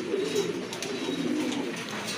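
Fancy pigeons coo softly nearby, low throaty rolling calls repeating over a quiet background hum, with no talking.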